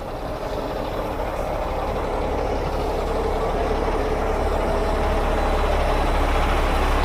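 Amazon delivery truck idling at LAX airport arrivals, a loud, steady low engine rumble continuing unbroken without pauses.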